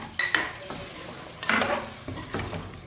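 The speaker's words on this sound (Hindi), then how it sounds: "पावों को असां मिसालां दे विच अच्छी तरीके नाल भुनी ला के भुन छोड़ाए।" Goat trotters (paya) frying with spices in a pot with a splash of water, sizzling steadily while a utensil stirs and scrapes against the metal in several close, irregular clatters, with no talking.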